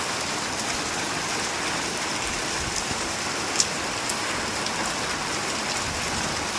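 Steady rain falling, a dense continuous hiss with occasional louder drops, no voices.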